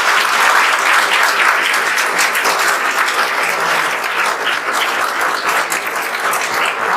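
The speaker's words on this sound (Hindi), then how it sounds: "आप लोग विवेक सर के लिए तो ताली बजा ही सकते हैं" Loud, sustained applause from an audience, steady clapping that fills the whole stretch without a break.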